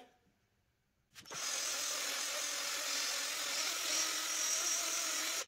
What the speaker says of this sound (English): Using a drill is not the ideal way of doing this